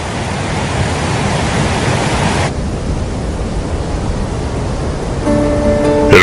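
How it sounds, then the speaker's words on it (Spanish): Dettifoss, the largest waterfall in Europe, in Iceland, fed by a river from the Vatnajökull glacier, sends up a loud, steady broadband roar of crashing water that fills the whole clip without pause. "no solo puedes contemplarla y escuchar el ruido del agua"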